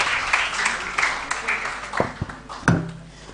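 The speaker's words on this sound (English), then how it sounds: "A round of applause for him, please." Audience clapping fills a room at a Flutter developer conference in Cape Town, steady and fairly loud, then thinning out with a few isolated claps and some voices near the end.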